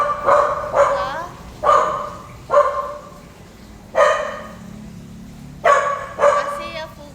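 A dog barks in short, loud bursts, about seven yips and barks spaced irregularly over several seconds, heard close up indoors.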